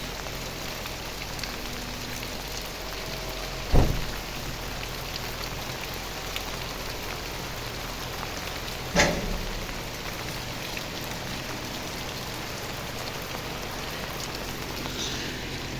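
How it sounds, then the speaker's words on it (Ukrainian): Steady rain hisses outdoors without a break, with two sharp knocks standing out partway through. "На дворі хмарно, холодно, дощ шурує."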